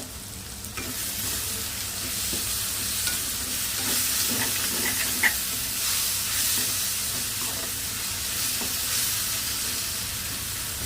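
Tomatoes cook down in a pan for a taro curry, a loud continuous sizzle and hiss with scattered soft stirring clicks throughout, no voices.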